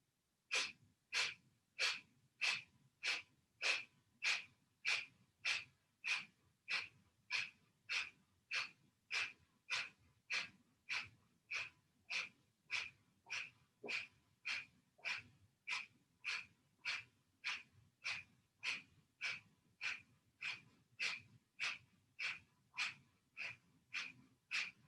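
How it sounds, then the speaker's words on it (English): Kapalbhati yoga breathing done with arms raised in a V: about forty sharp, forceful nasal exhalations in a steady rapid rhythm, close and clear against a quiet background. "you're going to do the same Kapalbhati breathing, but this time with your hands up like this in the V shape"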